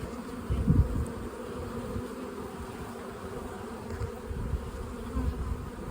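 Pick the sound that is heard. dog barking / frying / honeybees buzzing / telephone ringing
honeybees buzzing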